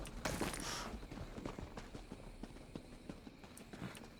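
A horse's hooves clip-clop at a quick trot in The Elder Scrolls Online, faint and fairly close, with a rushing burst early on.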